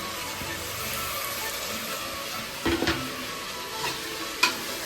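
Onions, tomato and mint leaves frying in a pan for pulao, a continuous sizzle with a couple of brief stirring scrapes and a sharp clink near the end, no talking.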